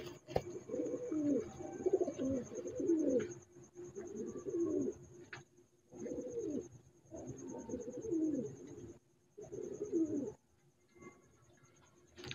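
Star-breed high flying pigeons cooing nearby in repeated soft, low throaty bursts separated by short pauses, with a faint steady high-pitched whine in the background.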